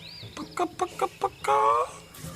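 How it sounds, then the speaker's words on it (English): A chicken gives a few short clucks and then one longer squawk, up close and fairly loud. "Maybe it was a chicken."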